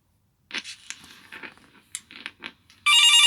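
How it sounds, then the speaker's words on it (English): After a few seconds of soft rustling, scraping and clicking handling noises, a phone ringtone suddenly bursts in loud and tonal and keeps sounding to the end. "Oh, it's my phone. I better pick it up."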